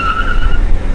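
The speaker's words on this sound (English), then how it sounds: "Does it do a burnout?" A Datsun 510 with a 4G63 engine roars with a low, steady rumble and a sustained high squealing tone, like tires spinning against pavement for a moment during a burnout attempt.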